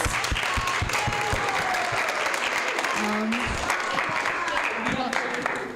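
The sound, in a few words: audience applause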